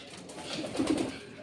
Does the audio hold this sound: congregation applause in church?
no